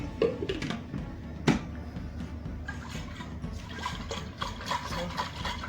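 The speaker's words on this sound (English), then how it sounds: "I'm going to throw 1 cup of water in the blender" Water splashes and trickles into a container, with a brief louder clunk partway through and a steady liquid pouring sound close by.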